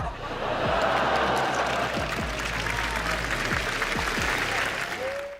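A large conference audience at Google I/O bursts into steady, dense applause with some cheering, a sustained wash of clapping throughout.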